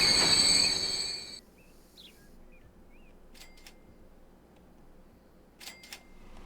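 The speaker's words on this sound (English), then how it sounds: "Yep, the train's pulling on in." A train in Transport Fever pulls into a depot: a loud brake squeal opens, then quieter rolling and faint chirping with scattered clicks follow as it slows.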